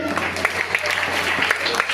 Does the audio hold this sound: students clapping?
yes